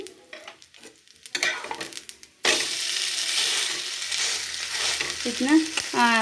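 Oil sizzles loudly and steadily in a pan of frying food, coming in abruptly after a few seconds of quieter clatter and stirring; a few metallic scrapes and clinks ride over the hiss near the end.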